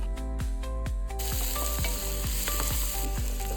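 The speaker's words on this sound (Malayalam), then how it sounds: "നല്ലോണം സോട്ട് ചെയ്തെടുക്കുക." Square-cut vegetables for chilli chicken sauté in a hot pan, giving a loud, steady sizzle with bursts of spatter and a few rhythmic clanks, with no voices.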